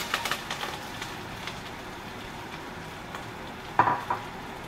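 Red onion with chopped thyme and oregano frying in a pan, a soft steady sizzle with a few stirring clicks at the start and a brief scrape near the end, close and quiet.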